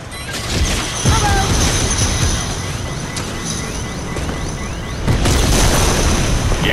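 Loud booming explosions from a missile strike in Fortnite, with heavy rumbling blasts near the start and again toward the end, over continuous noisy game ambience.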